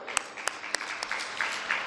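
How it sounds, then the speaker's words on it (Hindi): Scattered hand claps at first, building into a steadier round of applause from a crowd at a Navratri religious discourse, fairly faint and distant. "तालियां बजाओ।"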